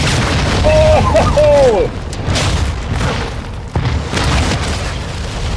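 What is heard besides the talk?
explosion destroying the observatory in the video game Warzone 2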